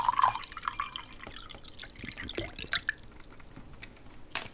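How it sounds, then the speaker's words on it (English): Water poured from packaging into a drinking glass at home, a short trickling splash at first followed by scattered drips and small liquid sounds, quiet and close. "I just thought I'd decant it into a glass this time."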